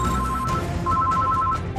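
A telephone rings at the Los Angeles 911 emergency call center, two steady electronic ring bursts separated by a short pause, heard over a constant low background rumble.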